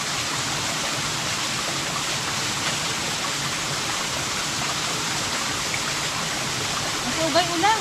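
A small waterfall pours in an unbroken, loud rushing hiss, and brief voices break in near the end.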